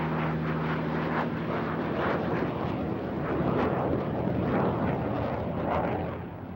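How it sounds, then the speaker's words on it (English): A Messerschmitt Me 262, the WWII Luftwaffe twin-jet fighter, roars past with a dense, steady jet rumble and rushing noise that swells and recedes slightly, loud and continuous with no voices. "the Luftwaffe's most advanced fighter, the Messerschmitt Model 262"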